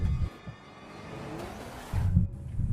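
A car in a suspense thriller film surges toward a man standing with a police officer, its engine rumbling in bursts at the start and end with a swelling rush between.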